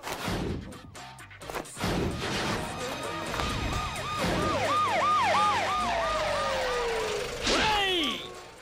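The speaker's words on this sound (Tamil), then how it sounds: "சிட்டி ஆர்டிஎக்ஸ் காலேஜுக்கு இமிடியேட்டா ஒரு ஆம்புலன்ஸ் அனுப்பி வை" An ambulance siren wails loudly in a comic film scene at a college, its rising and falling tone close and dominant after a crash-like burst at the start, then sweeping past with a pitch drop.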